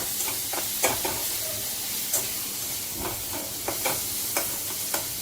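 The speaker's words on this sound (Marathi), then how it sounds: "नंतर त्यामध्ये हळद घालूया आणि हे पुन्हा एकदा हलवून घेऊया" A spoon stirs turmeric and salt into a sizzling pan, with a steady frying hiss and a few sharp scraping clicks spread through.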